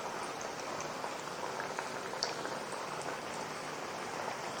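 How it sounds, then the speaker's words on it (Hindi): Pieces of sweet dough for an easy mithai fry in oil over a slow flame, giving a steady, even sizzle and fine bubbling crackle throughout at moderate loudness, with no talking. "और इसको लाइट जो है ना स्लो फ्लेम पर फ्राई करना है।"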